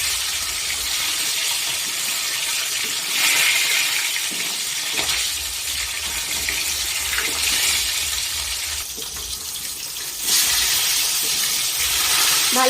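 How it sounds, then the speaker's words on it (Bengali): Pieces of silver carp fish frying in hot oil, producing a loud, continuous crackling hiss that surges and eases in waves, close up with no talking. "মাছটা ভালো করে ভেজে নেব।"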